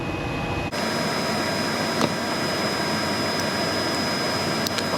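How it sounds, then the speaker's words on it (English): An electric motor on a Nissan NV 3500 van, switching on suddenly from near silence into a loud, steady whirring hum with a high whine, plus a couple of faint clicks. "this should power on the motor"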